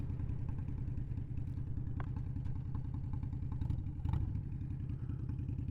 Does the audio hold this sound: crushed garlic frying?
no